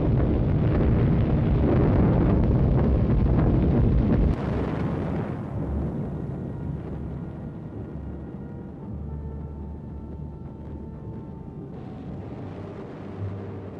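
Bombs exploding in a WWII air raid on Dresden: a loud, sustained roar of blasts and rumble for about four seconds, then a lower continuing rumble with distant booms and a rising swell near the end.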